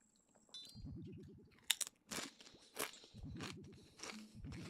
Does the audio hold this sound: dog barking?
no